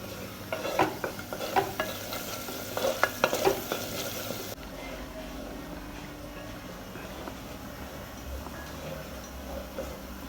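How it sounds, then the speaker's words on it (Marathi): Mixed vegetables with coriander sautéed in a traditional pan, a soft steady sizzle with rhythmic scraping and stirring clatter during the first half, then a quieter, even frying hiss. "आता हे छान परतू द्यायचे आपल्याला. थोडीशी कोथिंबीर घालणार आहोत."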